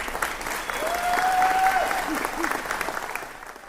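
Parents clap and cheer in a school gymnasium as graduates cross with their diplomas, a steady wash of applause with a whistle, while a narrator speaks over it.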